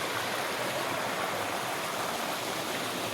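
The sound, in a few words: small stream flowing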